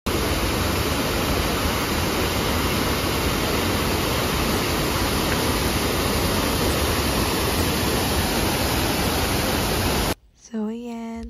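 Roaring, dense rush of a waterfall in Taiwan fills the scene loudly and steadily for about ten seconds, then cuts abruptly to a brief stretch of talking.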